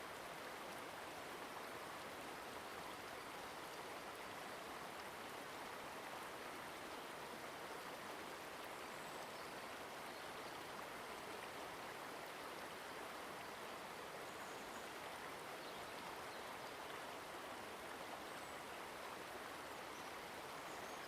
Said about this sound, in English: one with the sound of the fresh water against rocks